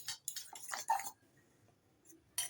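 A fork beating eggs in a bowl for an egg roll batter, giving a quick burst of light metallic clinks and taps in an uneven rhythm, close and fairly faint, then a pause and one more short flurry.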